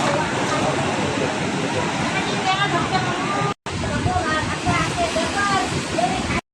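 Seawater surges into houses at the Pajpandhari Koli fishing village, a loud, steady rushing and sloshing roar with distant voices in the background, briefly cut twice.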